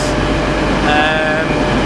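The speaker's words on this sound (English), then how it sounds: "I've just got off the train at St Pancras" A train stands at St Pancras station in London with a loud, constant rumble and hum of rail noise, and a brief high tonal squeal or whine rising over it midway.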